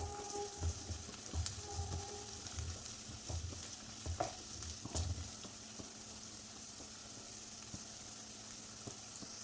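Carrots and finely chopped beans sizzle steadily in a pan for beetroot rava upma, with soft scraping stirs coming in short bursts over the first half before the frying settles into an even hiss.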